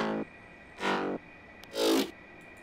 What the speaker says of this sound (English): don't forget to add some growls as well.